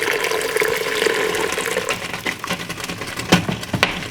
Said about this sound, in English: And now I'm just gonna go ahead and add more water